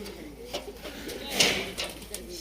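Soft pigeon coos heard faintly at close range on a rooftop, mixed with rustling and quiet background murmur.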